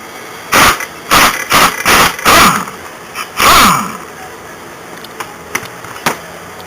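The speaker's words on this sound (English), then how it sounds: "I'm going to use the impact on this bad boy." Impact wrench spinning off the rusty clutch nut on a Suzuki LT80 quad, loud and close in a series of short hammering bursts, then a longer burst, followed by quieter scattered clanks with no talk.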